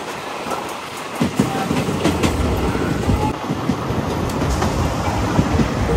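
A DEMU train runs between Nandyal and Kurnool City, heard from on board as a loud, steady rumble with rhythmic clickety-clack of the wheels on the rails.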